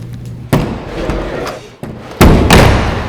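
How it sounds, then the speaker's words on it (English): Heavy old wooden courtroom doors are pulled shut, giving several deep thuds and a final loud slam, close by in a quiet room with no talk. "the old wooden doors were pulled shut for executive sessions"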